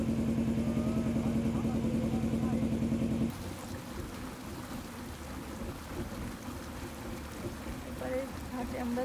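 A boat motors along a broad river swollen by a full high tide, its engine humming steadily and loud at first, then giving way to a rougher, wind- and water-filled rumble with a voice faintly in the background.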